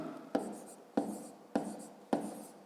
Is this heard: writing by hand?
yes